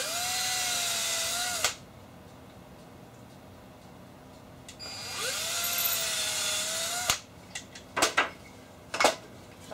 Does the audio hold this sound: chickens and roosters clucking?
no